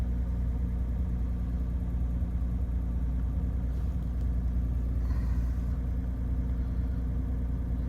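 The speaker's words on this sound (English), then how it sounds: "Engine's running good." A 1988 BMW 528e sits idling with a steady, close, low engine hum and even rumble throughout, smooth and unbroken, with no voices.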